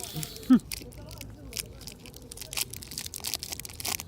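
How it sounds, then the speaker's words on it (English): Crunchy Cadbury chocolate is chewed close to the mic, with a string of short, crisp crunches spread across a few seconds under a brief voice. "Still chewing."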